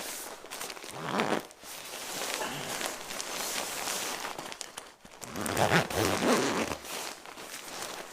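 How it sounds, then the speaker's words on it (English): Zipper on a down jacket pulled in two long rasping strokes, close and crisp, with a brief pause between them and fabric rustle around. "The zipper does get caught on this one, which was one flaw I didn't like."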